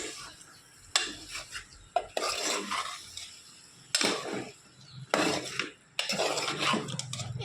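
Tamarind curry being mixed in a pot by hand, a metal spoon scraping and clinking against the sides in bursts separated by short pauses, close and fairly clear with no voices.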